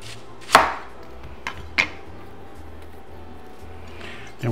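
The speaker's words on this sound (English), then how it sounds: "take this beautiful Vidalia onion and I'm going to cut it in half inch rings" A knife chops through a Vidalia onion on a cutting board, cutting it into rings: two sharp, close thuds spaced apart, then a softer cut near the end over a quiet background.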